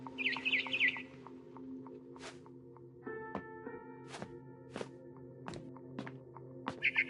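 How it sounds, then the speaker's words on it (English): A barn swallow chirps in short bursts at the start and end while returning to her nest, over a steady low hum, with scattered taps and thumps nearby. "It was a barn swallow going back to her nest."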